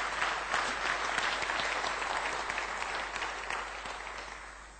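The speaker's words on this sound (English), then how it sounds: "Who clapped first?" An audience claps together in dense, sustained applause that fills the room at steady loudness, then slowly tapers over a few seconds.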